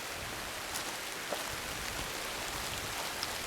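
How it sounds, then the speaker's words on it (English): Light rain shower on a trail hike, a soft steady hiss of drizzle with a few faint drop ticks, close and even throughout with no talking. "It's starting to sprinkle a little now"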